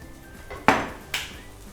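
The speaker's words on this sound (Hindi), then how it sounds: "प्लेट ले लेते हैं" A plate picked up and set down in a home kitchen while making a banana oat pancake breakfast, giving two sharp ceramic clinks about half a second apart, close by with no talking.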